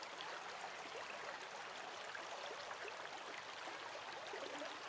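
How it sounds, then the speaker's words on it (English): River water flowing out from beneath an undercut rock makes a steady, faint rushing hiss with no breaks, calm and distant. "the water is flowing out from underneath the rock"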